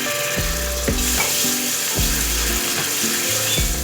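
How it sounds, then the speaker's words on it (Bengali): Masala frying hard in a pan with a little hot water just added, a steady loud sizzle with rhythmic scraping and stirring strokes roughly every half second, for Paneer Changezi. "মশলাটা যাতে জ্বলে না যায় সেজন্য আমি এর মধ্যে সামান্য গরম জল অ্যাড করলাম।"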